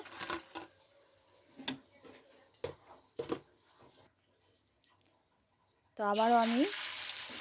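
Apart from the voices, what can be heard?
cabbage pakoras frying in hot oil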